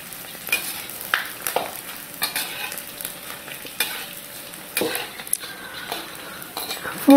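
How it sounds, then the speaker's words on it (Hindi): Edible gum roasting in a pan over medium heat, a steady sizzle and crackle with repeated stirring scrapes and utensil clinks against the pan, close and fairly loud. "गोंद बीच में डाल के आधी आधी करके 2-3 बार में डालूंगी मीडियम हीट पे, ताकि अंदर तक सिके"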